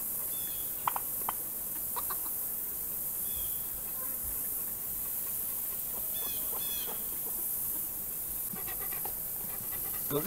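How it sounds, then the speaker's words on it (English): A farm hen clucks in short, faint bursts near its roost, scattered over a steady outdoor background hiss with no clear talk. "Got a hen fixing to come out."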